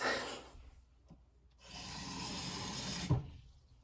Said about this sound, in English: I guess I should probably add some cold water too.